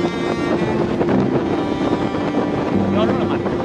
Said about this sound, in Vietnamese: Gió rất là mạnh.